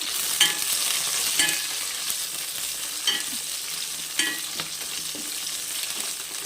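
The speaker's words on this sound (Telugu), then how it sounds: "కొంచెం కరివేపాకు వేయించుకొని కొంచెం జీలకర్ర" Curry leaves and cumin fry in hot oil with a bright, steady crackling sizzle, heard close and without speech, with repeated light scrapes and taps of a spatula stirring the pan while chutney is being made.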